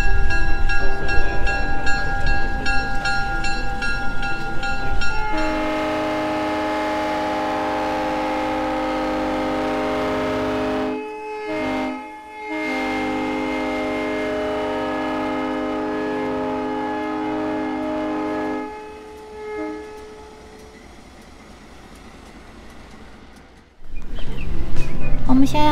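A scenic excursion train pulls into Peninsula station in Cuyahoga Valley, its loud sustained horn sounding in long blasts with brief gaps over rumbling rail noise, then fading near the end.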